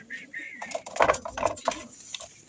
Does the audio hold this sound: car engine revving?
no